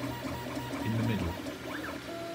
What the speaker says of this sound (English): CR10S printing the A part